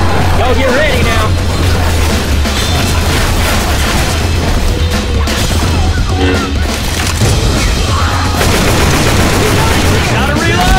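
Dense, loud AK-47 fire in the video game Left 4 Dead 2, sustained bursts layered with other in-game combat noise and players talking over the action throughout.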